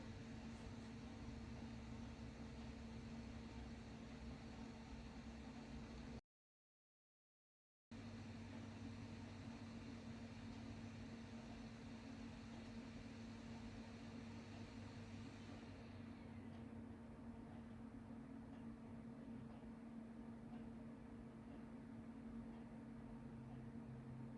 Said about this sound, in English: The optical drive and PowerBook just spun down, just spun back up again.